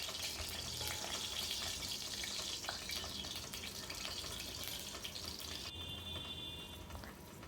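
Mustard seeds crackle and sizzle in hot sesame oil in a pan, a steady dense frying hiss that holds for several seconds and eases slightly toward the end, with no talking.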